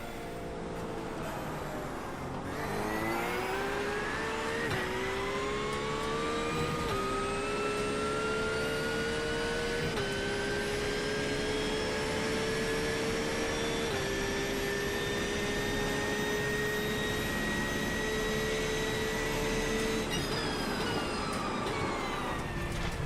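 A GT3 race car engine in a racing game on a rainy Portland International circuit, droning loud and steady for over twenty seconds with rising gear pitch, brief shifts, and a constant wet spray hiss, with no talking.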